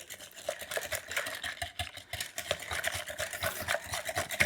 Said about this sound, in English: let's whisk all this together really good